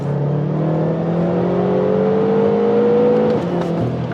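A Lexus IS F or BMW M5 V8 car accelerates hard in third gear, its engine note climbing steadily and loudly from close inside the cabin before a quick shift drops the pitch near the end.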